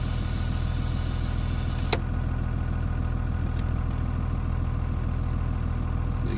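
A steady low mechanical drone of a York 210 engine-driven compressor idling on a Cummins-powered second-generation Ram truck, with a single sharp click early on and another faint tick later.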